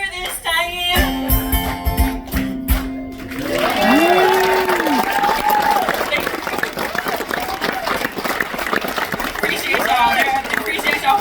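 A live concert crowd at a Cayamo show applauds in a dense, sustained wash of clapping and cheering. Loud music plays at the start, and voices shout and whoop over the applause.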